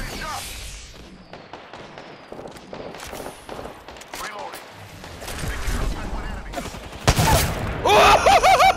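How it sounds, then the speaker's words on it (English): Scattered shots and bursts of gunfire in a shooter game firefight, irregular cracks and impacts mixed with game sounds and a talking voice, growing louder and more intense near the end. "I'm getting shot!"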